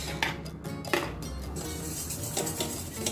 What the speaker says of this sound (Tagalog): first na ating gagawin ay ating i-beat yung ating egg yolk